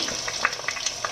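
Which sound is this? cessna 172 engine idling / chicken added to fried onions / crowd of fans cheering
chicken added to fried onions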